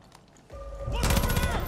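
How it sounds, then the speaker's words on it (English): Gunfire erupts in the Far Cry New Dawn video game, a burst of rapid, loud shots that starts abruptly and continues densely to the end, with a faint voice briefly audible beforehand. "I hear gunfire."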